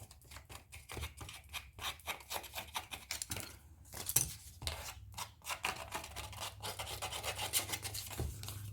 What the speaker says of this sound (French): Ça ferait plus vintage. Donc, on va le gratter un petit peu.